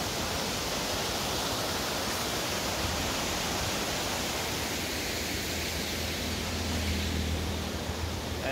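A river rushing alongside a mountain road in Neelum Valley with a waterfall pouring from above, a dense, unbroken roar of water filling the whole stretch at steady loudness, with no voices over it.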